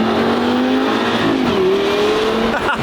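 A sports car engine revs loudly, pitch climbing and holding high, with a harsh growling exhaust note close by.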